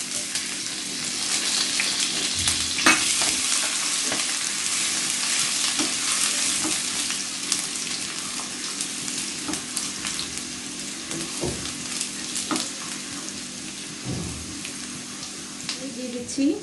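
Chopped ginger and garlic sizzle and crackle steadily in hot oil in a pan, a continuous frying hiss with occasional pops and stirring scrapes, no voice heard.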